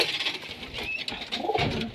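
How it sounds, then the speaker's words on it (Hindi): A pet pigeon, a costly black bird kept at a friend's home, gives a soft, close cooing call that swells and fades over about two seconds with no talking. "ये देख सकते हैं सबसे महंगी कबूतर है"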